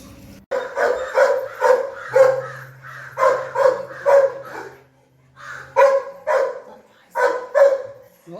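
A dog playing with water barks in quick bursts, close and loud: about a dozen sharp barks arriving in clusters of two or three with short pauses between, and no other voices.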